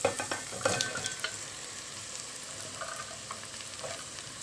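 Okra tipped into a pan of sautéed onions, starting with a few sharp clatters and hisses and then settling into a steady, fairly quiet sizzle of frying with occasional soft stirring.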